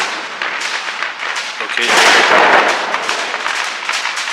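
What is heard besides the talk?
firecrackers thrown at a wedding in Brussels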